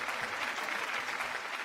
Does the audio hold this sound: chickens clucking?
no